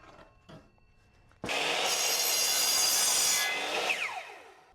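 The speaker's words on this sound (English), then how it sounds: "Next, I got to cutting these 2x4s down into 2x2s." A 2x4 piece of lumber being ripped down into 2x2s with a power saw, heard as a loud, close, steady whining cut lasting about two seconds. The cut then tapers off as the blade spins down, with a few faint knocks before it.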